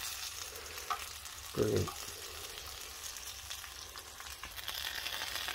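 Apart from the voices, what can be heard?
bacon frying in a pan on an induction hob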